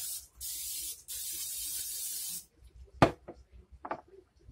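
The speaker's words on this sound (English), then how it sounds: "I'm going to spray her down with a little cooking spray." Two long hissing bursts of cooking spray from an aerosol can onto raw spatchcocked chicken, the second lasting about a second and a half, followed by a few soft knocks and handling noises.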